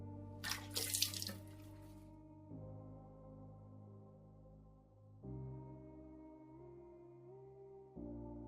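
Water runs steadily from a tap as someone washes their face, a continuous close flow with a brief louder splash near the start and shifting pitch as the stream changes.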